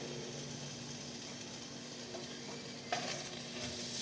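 Ground beef and cabbage fry in a large Dutch oven with a steady close sizzle and occasional soft stirring, quiet and continuous without talk.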